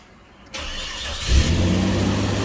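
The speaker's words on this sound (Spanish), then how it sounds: "Vamos a ver si el vehículo enciende." A car engine cranks and catches after a relay repair restores power, then settles into a steady loud idle close by, with no talk.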